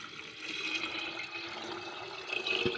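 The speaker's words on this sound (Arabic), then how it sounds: "وهنضيف عليه المية بتاعتنا." Water poured from above into a pot of fava beans being cooked for ful medames, a steady faint splashing stream with a brief louder burst near the end.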